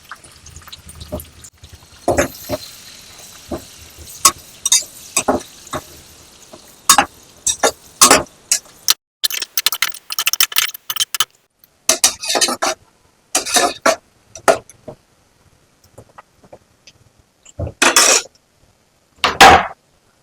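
Chopped onions go into a pan for egg biryani and are stirred, with a spoon clattering and scraping against the metal in irregular bursts, near and fairly loud, between quieter pauses.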